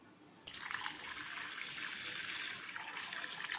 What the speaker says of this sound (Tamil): ஒரு 3 வாட்டர் பாட்டில்ஸ் வந்து தண்ணி ஊற்றிக்கிட்டேன்